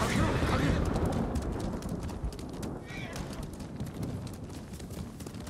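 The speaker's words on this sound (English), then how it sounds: "So let's jump on the horse." A horse gallops in the video game Ghost of Tsushima, its rapid, rhythmic hoofbeats drumming steadily throughout alongside rushing wind and ambient noise, with a voice talking over the ride.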